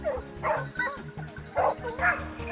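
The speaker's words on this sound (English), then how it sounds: "The hunting dogs are barking again." Several hunting dogs bark and yip repeatedly in quick bursts during a wild boar hunt, fairly close, with a rhythmic low thumping underneath.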